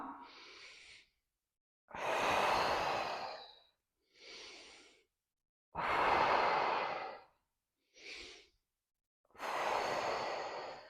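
Deep, audible breaths during a postpartum pelvic floor exercise come close and clear in a slow rhythm of six breath sounds. Shorter, softer ones alternate with longer, heavier sigh-like exhales, separated by silence, with no talking.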